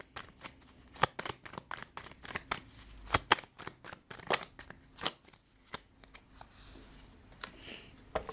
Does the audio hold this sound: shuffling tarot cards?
yes